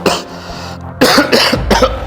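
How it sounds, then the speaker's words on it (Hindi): A man coughs several times in quick harsh bursts, loud and close, with short pauses between the coughs. "अब मुझे खांसी आई"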